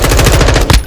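Rapid automatic gunfire in a video game, a loud, close burst of evenly spaced shots ending in a heavier thump, with no talk over it.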